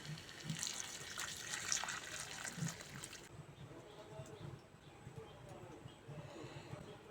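Water is poured into a simmering potato and pointed gourd curry: a steady, close gush for about three seconds, then it drops to a softer, continuous hiss from the pan.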